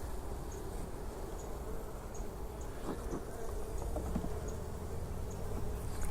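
Honeybees buzz steadily throughout a hive inspection, a dense, continuous drone of many insects at close range with faint handling clicks and rustles of frames beneath, no voices.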